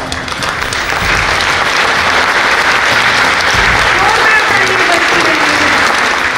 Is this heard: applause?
yes